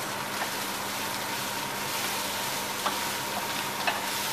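Steady hissing sizzle from river shrimp browning in a little oil in a pan for a Réunion shrimp rougail, a continuous close frying crackle with a few faint clicks and no voices.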